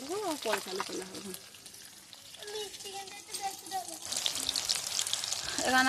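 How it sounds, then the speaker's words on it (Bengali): Oil sizzles steadily as chicken pieces fry in a pan, with a voice talking over the crackle at the start and midway. "আমার চিকেনটা ভাজা হচ্ছে নরম হাতে দিয়ে ভাজছি"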